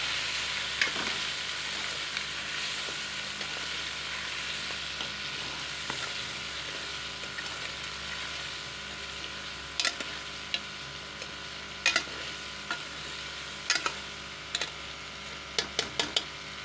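Spices such as turmeric, fenugreek, black pepper and chicken masala fry in oil for chicken chana daal, a steady soft sizzle with occasional sharp clicks of a spoon stirring against the pot, with no talk.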